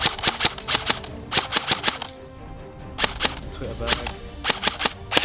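A Nuprol AEG airsoft rifle fires short bursts of sharp snapping shots in rapid clusters, close and fairly loud, with a brief lull midway and a few spoken words among the shots.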